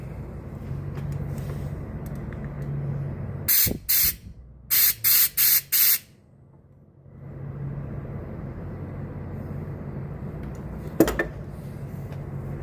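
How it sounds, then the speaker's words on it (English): Several short, loud bursts of compressed air blast into a Honda GCV small-engine carburetor during fuel-system cleaning, a hiss followed by four quick sprays in a row. Low mechanical background noise surrounds them. "Take some more compressed air."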